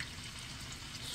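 Steady, dense sizzle of bacon-wrapped steak fingers frying in a skillet, a continuous crackling hiss with no pauses or voices.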